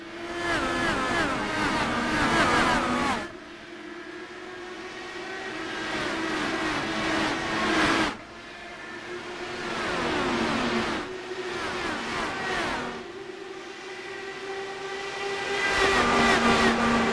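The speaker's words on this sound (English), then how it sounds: "Let's turn up the sound of the engines as Malechka holds them and we go racing back here at Homestead, Miami." IndyCar race cars scream around Homestead-Miami in the iRacing sim, loud high-revving engines droning continuously with sharp gear-change drops and rises as several cars pass close by.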